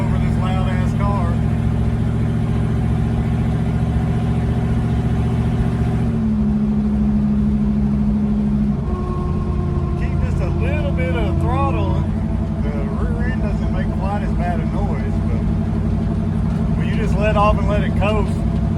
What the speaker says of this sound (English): I have no idea if y'all can hear me over this loud ass car.